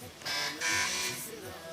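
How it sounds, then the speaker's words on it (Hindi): A quiz show buzzer on a Ramzan competition set sounds in a few harsh electronic bursts, loud and close, with a brief overlap of voices. "बजर चेक कर लीजिए"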